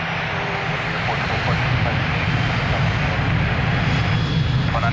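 Airplane engine roar at Lisbon Airport by runway 02, a steady loud broadband drone holding through the whole stretch, with faint radio talk underneath.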